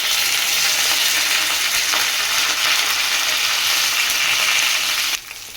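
Raw banana pieces fry in a pan with a loud, continuous hiss and sizzle, close by and uninterrupted, dropping off abruptly just before the end.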